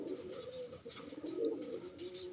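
An old pair of large pigeons cooing softly in low, throaty murmurs, faint and continuous over a quiet background.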